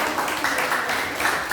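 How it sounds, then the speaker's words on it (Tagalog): A church congregation applauds a new member, a steady, dense wash of clapping from many hands filling the room throughout. "So, sana po malakas sa palakpak sa ating bagong kapatid."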